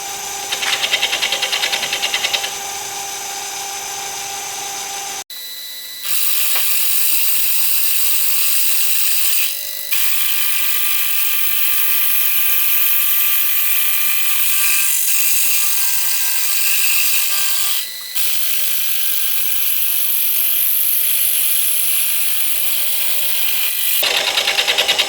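Machine tool taking a final light skim cut on cast iron while building a Stuart Turner No. 8 mill engine, a steady high-pitched cutting whine broken by a few short pauses and a change in tone partway through.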